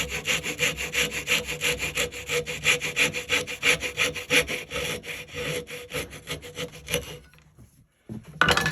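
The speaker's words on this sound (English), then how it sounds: "I'll start sawing the corner, and I'll just go right across with it." A hand saw cuts across the corner of a wooden dovetail joint in steady back-and-forth strokes, close and loud, with a brief pause and a final clunk near the end.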